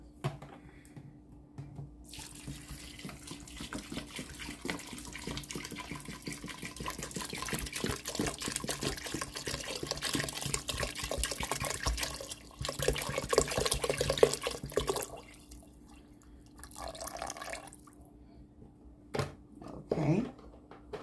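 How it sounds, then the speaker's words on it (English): Tap water pours into a pot for a southern-style beef stew, making a continuous splashing, gurgling fill that swells and tapers off near the end, with kitchen handling sounds mixed in. "I'm going to be pouring my water in."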